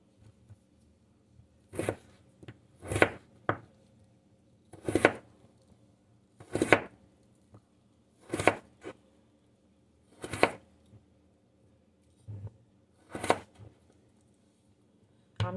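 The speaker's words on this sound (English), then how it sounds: "I'll be cutting our potato" A knife chops through a firm potato in a kitchen, making about a dozen sharp, close cuts in an uneven rhythm, each a crisp knock on the board, with quiet gaps between strokes.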